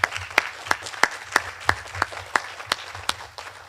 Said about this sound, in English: I want you all young men to give your parents and your families a huge round of applause